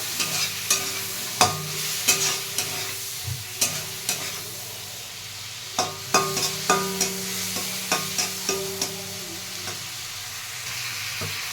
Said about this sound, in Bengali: একটু নুন, হলুদ। এবার নাড়িয়ে চাড়িয়ে নেব।